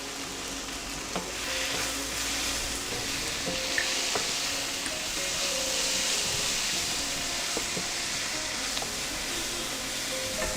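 Onion, green chili and tomato sautéing in a pan with a spoonful of coriander powder, giving a steady close sizzle and fry with occasional stirring scrapes and clinks throughout.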